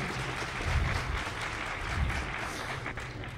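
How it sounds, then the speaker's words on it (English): Crowd applause at a DEFCON hacker conference talk, a steady broad roar of clapping from a large audience that swells and eases slightly over a few seconds. "Round of applause."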